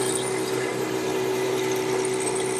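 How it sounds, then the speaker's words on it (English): A power drill bores a hole about six inches deep into wood while building a garden swing, a steady, loud continuous whine holding one pitch for the whole stretch without a pause. "I'll just bore a hole about 6 inches deep."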